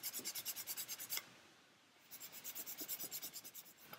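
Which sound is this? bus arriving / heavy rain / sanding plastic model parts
sanding plastic model parts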